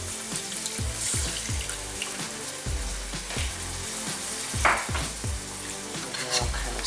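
Water poured into a hot frying pan of browning Salisbury steak meat in olive oil sets off a loud, steady sizzle and crackle with bubbling underneath, running continuously throughout.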